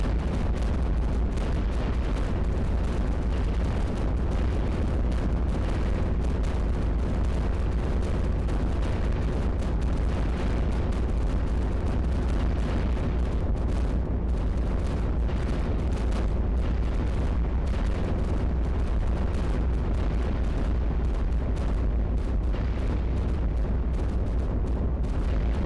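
Cannon fire in the tower-defense game iBomber Defense, on a Germany stage: dense, continuous booming blasts that overlap into a steady loud rumble throughout, with no talking.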